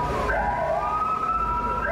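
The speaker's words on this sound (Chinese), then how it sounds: "屏东台铁潮州站警报器响起，通知乘客发生火警" A fire alarm sounds late at night at Chaozhou railway station in Pingtung, a steady wailing electronic tone holding constant and loud before cutting off abruptly near the end.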